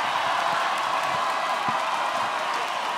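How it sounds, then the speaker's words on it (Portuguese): Loud, steady audience applause and crowd noise at a rap battle, a sustained wash of clapping with faint cheers mixed in throughout. "Muitas palmas."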